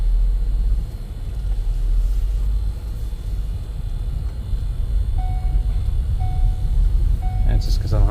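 Seatbelt warning chime in a 2013 Ford Edge: three evenly spaced single tones about a second apart, sounding over the low rumble of the running engine inside the cabin.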